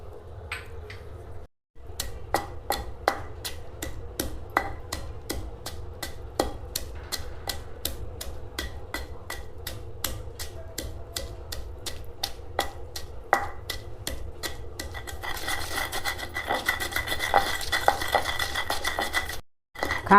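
Green chilli and salt pounded in a stone mortar for bottle gourd chutney, a steady run of sharp repeated knocks that keeps a regular rhythm for about twenty seconds, close and clear with no talking.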